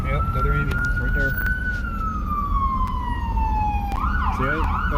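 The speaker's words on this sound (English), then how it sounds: "Oh, yep, another ambulance right there." An ambulance siren wails steadily then shifts into a rapid yelp while passing through rush-hour street traffic, loud and continuous over the rumble of the road.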